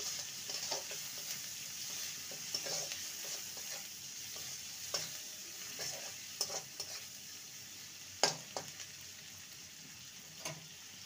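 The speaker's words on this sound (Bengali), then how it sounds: "পেঁয়াজটাকে হালকা ভেজে নেব।" Chopped onion and three green chilies fry gently in oil, a faint continuous sizzle broken by repeated spatula stirs and scrapes against the pan, close and quiet, no talking.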